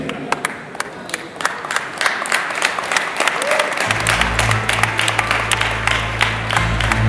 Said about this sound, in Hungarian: A tapsolókat jobban is lehet használni, fiatal versenyzőknek szükségük van rá.